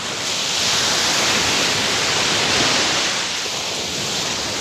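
Choppy sea with small waves, heard as a steady broadband wash of surf and wind that swells slightly and fades, fairly loud and continuous with no talk.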